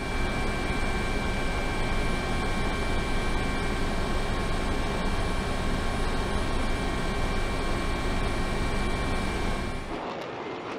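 An F-22 Raptor fighter jet with twin Pratt & Whitney F-119 augmented turbofan engines roars loudly and steadily without a break, a dense broadband blast that fades off near the end.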